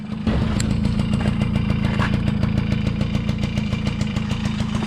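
A 1980s Yamaha QT50 retro scooter's small engine starts and then idles with a fast, steady putter, close and fairly loud, with no talk.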